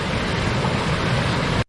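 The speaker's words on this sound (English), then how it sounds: "this narrow lock at the moment looks like it's a pumping station where water is coming back up the canal here" Loud, continuous rushing of water flowing back up a canal at a narrow lock with a pumping station, a dense steady roar close by that cuts off abruptly at the end.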